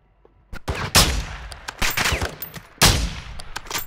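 Sharp, separate shots from a video game firefight ring out, several distinct bangs and short bursts spaced across a few seconds, loud with quick decays between them.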